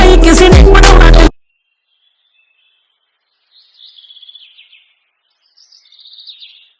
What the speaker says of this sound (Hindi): गांव की शांत सुबह में जब सिर्फ पक्षियों की आवाज़ गूंजती थी